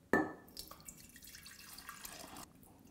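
Homemade ginger drink is poured into a jug, opening with a sharp splash and settling into a soft, steady trickle of liquid that tapers off over a few seconds, close and quiet, with no talking.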